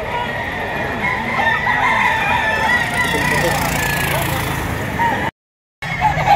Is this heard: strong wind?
no